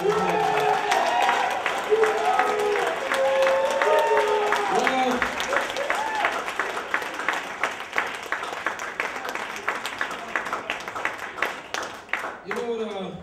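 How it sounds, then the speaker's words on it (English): Audience applause at a spoken word and performance night, a sustained wash of clapping from a room full of people with cheering voices over it, slowly thinning into scattered claps toward the end. "give a big round of applause."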